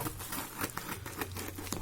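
A plastic AliExpress parcel bag being cut open: a brief, close run of crinkly plastic rustling and small snipping ticks, steady and fairly loud for under two seconds.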